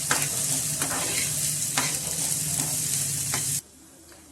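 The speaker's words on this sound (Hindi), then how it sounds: "इनको भी थोड़ा सॉफ्ट होने तक भून लेते हैं, तीनों चीजों को अच्छे से।" Onion, capsicum and diced carrot stir-fry in a hot pan, a steady close sizzle broken by regular scrapes of a spatula, stopping abruptly near the end.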